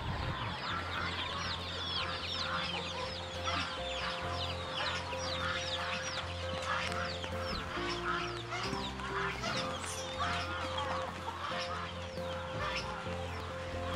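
Ducks and chickens on a farm in Laos, a dense, continuous chorus of clucking, honking and quacking fowl close by, with many birds calling over one another the whole time.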